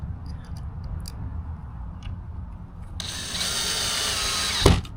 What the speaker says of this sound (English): Go ahead and I'm gonna use my drill.